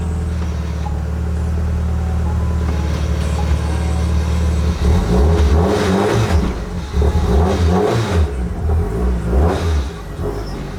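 A Lotus car engine idles with a steady low drone, then revs up repeatedly in loud close bursts of rising and falling pitch.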